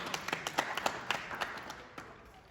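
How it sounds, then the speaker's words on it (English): Scattered clapping from a small audience at a youth alliance launch event in Gambia, irregular claps rising and thinning over a couple of seconds, moderately near. "Let's give him a round of applause."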